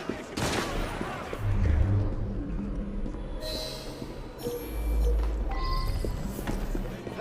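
Musket gunfire volley in Assassin's Creed Syndicate, Victorian London game setting: several sharp, loud reports cluster amid dense street commotion, with heavy low rumbles and scattered clattering, footsteps-like thuds and brief voice-like sounds through the busy mix.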